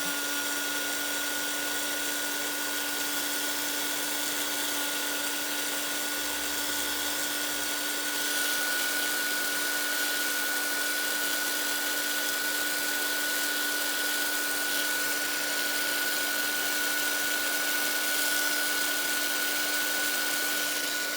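A heat embossing tool blows over a stamped paper embellishment, a steady whirring fan drone with a high whine that runs without a break and grows slightly louder partway through.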